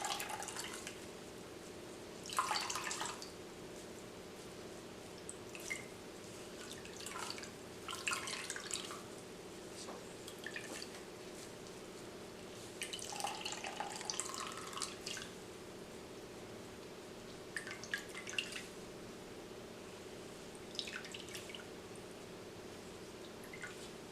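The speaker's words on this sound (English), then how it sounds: "Lift the edges of the cheesecloth and squeeze out the liquid with your hands." Coconut milk drips and trickles into a bowl as liquid is squeezed by hand from cheesecloth, faint intermittent patters and short splashy runs spread over a quiet background, with no talking.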